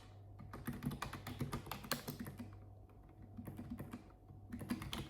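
Quiet, close keyboard typing in an ASMR-style survey session, steady runs of soft clicks and taps with brief pauses and no talking.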